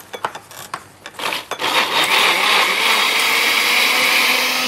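Kitchen blender whirring as it mixes ingredients for potato cheese bechamel, starting with several short pulses before settling into a loud, continuous high-pitched spin.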